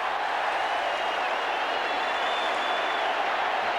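A crowd at a 1989 State of Origin football match between Victoria and South Australia cheers for the Victorians, a steady, broad roar with applause that holds at an even level throughout.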